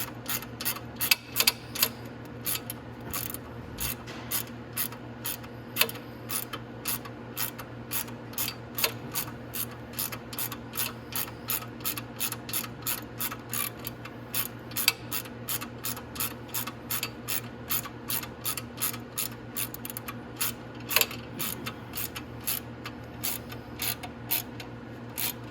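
A ratchet tightens bolts on a Venom X22R Max 250cc motorcycle during an oil cooler replacement. It gives a steady, close run of crisp evenly spaced clicks that continues for the whole stretch with no voices.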